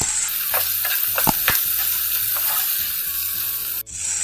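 Okra (bhindi) sizzles in a hot pan with red chili powder, garam masala and salt while being stirred, a steady frying hiss broken by scraping spoon strokes against the pan, close and without talking.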